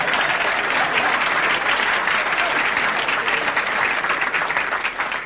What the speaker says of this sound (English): They're applauding because your grandmother is in trouble